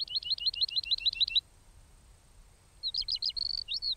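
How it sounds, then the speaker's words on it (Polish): A skylark sings in the open in a cartoon scene, its clear, high, rapid trilling phrases repeated briskly for over a second, then a pause, then another burst of warbling notes, with no talk. "to skowronek"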